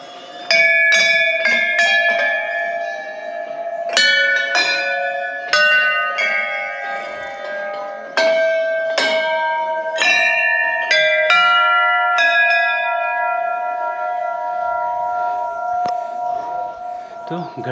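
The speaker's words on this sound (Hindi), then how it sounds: "घंटे की आवाज़ से कितना अच्छा लगता है सुनने में।" Temple bells at Haat Kalika temple in Gangolihat ring loud and close, struck over and over in an uneven cluster with long ringing tones that slowly fade; voices are faintly audible.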